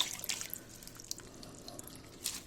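Collard greens are rinsed by hand and drained in a home kitchen: soft drips and light splashes of water, faint and close, in a few scattered bursts over a quiet background.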